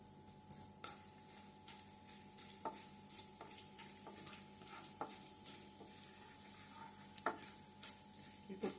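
Urad dal and chana dal fry in a pan for a ridge gourd and milk curry, making a quiet steady sizzle with occasional light clicks and scrapes of stirring.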